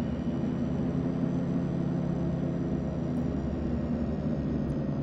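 Twin-engine DHC-6-300 Twin Otter in the FSX flight simulator drones steadily as a constant low turboprop hum with a broad rumble, unchanging and continuous throughout, with no talking.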